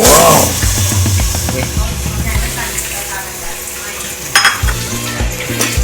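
Peeled river shrimp go into boiling water with a loud hiss and steady bubbling, while utensils clink now and then against a pot.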